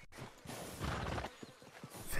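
Horses in Red Dead Redemption 2 clip-clop in a short, steady run of hoofbeats, close and fairly soft, with a faint whinny-like edge near the end.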